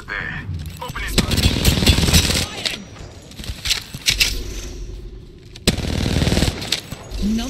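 Gunfire in Apex Legends comes in loud, close automatic bursts broken by short pauses, with voice lines spoken over the shooting.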